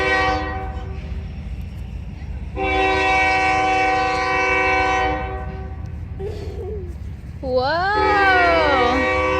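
A train passes close by and sounds a loud, sustained horn in long blasts, with a rumbling rolling roar underneath and a voice rising briefly near the end.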